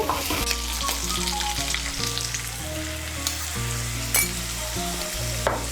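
A spice paste of turmeric, chili and cumin frying in hot oil, a loud, steady sizzle with stirring scrapes and a few sharp utensil clinks, alongside a sustained low hum from the stove or kitchen.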